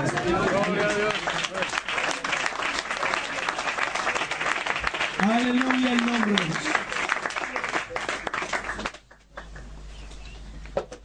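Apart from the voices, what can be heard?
applause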